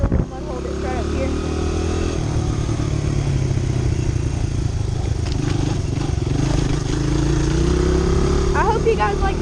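A Honda CRF100 dirt bike riding through a small mud hole on a trail, its engine droning loud and steady throughout with a rough, buzzing tone and some clattering near the mic.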